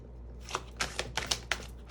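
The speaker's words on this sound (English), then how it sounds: "I really love shuffling my decks like this" Tarot card decks are shuffled with a run of crisp riffling bursts that come in a quick, uneven rhythm, close and clear over a low steady hum, with no one talking.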